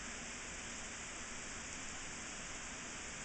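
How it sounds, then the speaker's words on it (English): Steady rain falls outside over an English manor's courtyard and terrace, a faint, even hiss with no talk and no gaps. "I don't know if you can see it, if it's picking up, but it's raining"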